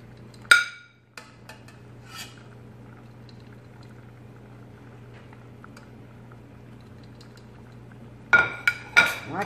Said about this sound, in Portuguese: agora nós vamos dar uma mexidinha